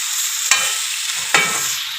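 Ginger garlic paste frying in a little oil, a bright continuous sizzle close by, broken by two crisp scrapes of the spoon stirring the paste.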